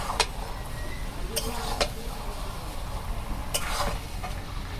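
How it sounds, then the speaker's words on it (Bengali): Taro greens (kachu shak) with dried fish being stirred in a pan, with a few sharp scrapes and clinks of the utensil over a soft background sizzle, close and moderately quiet. "কচু শাক এখন আমি শুটকি মাছ দিয়ে নাড়াচাড়া করে মিলিয়ে দিই"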